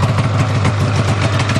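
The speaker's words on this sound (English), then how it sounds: "Motor is running." A snowmobile engine idles with no throttle, a steady low rumbling drone with a slight pulsing beat, close and loud, no voices.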